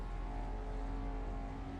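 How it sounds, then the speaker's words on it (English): Race car engines in a sim racing video game drone at a steady, loud pitch as revs hold and build before the race start, a continuous dense engine tone with no voices. "The revs are going up."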